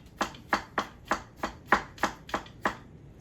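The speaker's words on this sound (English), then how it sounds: "I would just slice them up." Knife slicing through fresh strawberries on a cutting board: eight crisp, evenly spaced cuts, close and clear, with no talking.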